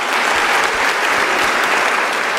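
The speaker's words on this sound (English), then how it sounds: "I think we require a round of applause." Steady, dense applause from an audience at a formal higher-education event, filling the whole stretch loudly and evenly with no break.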